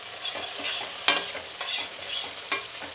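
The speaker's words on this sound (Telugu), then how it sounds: "వంకాయ వేగిపోతుంది, స్టవ్ ఆఫ్ చేసేస్తున్నాను" Eggplant pieces fry in a pan, a steady low sizzle broken by a few sharp scraping strokes as a spatula stirs them, close up and with no voices.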